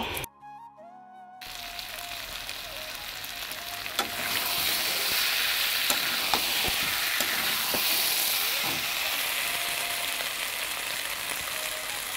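Chicken and vegetable bhaji frying in a pan, a steady hissing sizzle with scattered pops and clinks that starts after a brief quieter moment and carries on evenly, with no talking.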